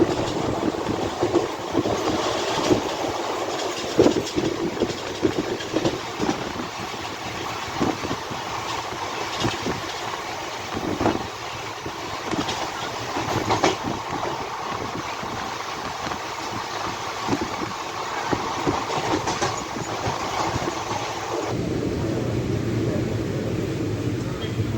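A long-distance passenger train on the Secunderabad to Trivandrum route, heard from inside a coach as a steady rumble with rail clatter and rattling, continuous and fairly loud, with some voices faintly in the background.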